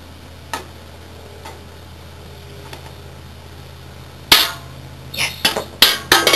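A K'NEX toy gun fires with a sharp snap near the middle of the recording, followed by a few more clicks and rattles close by; faint ticks come earlier against quiet room noise.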